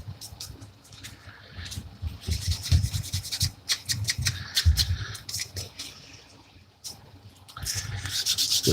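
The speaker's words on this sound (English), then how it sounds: "it's pretty much ready to go for wet sanding" Rhythmic rubbing strokes of sanding on a small model car body, in uneven bursts with brief pauses, close by.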